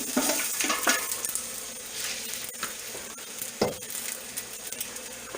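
Onions drop into hot oil, a bright, broken sizzle with clinks of utensil against pan, fairly faint and close, with no one speaking.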